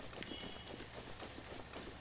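Horse hooves galloping in the video game The Legend of Zelda: Breath of the Wild, a quick rhythmic clip-clop of repeated hoofbeats running steadily over faint background game ambience.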